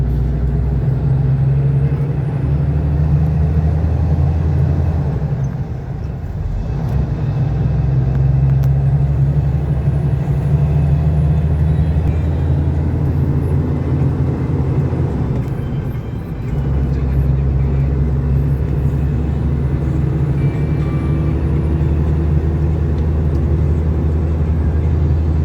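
A heavy fertilizer truck drones along the road, its engine rumbling low and steady with a couple of brief dips in the noise. It sounds close and continuous, with no clear voices.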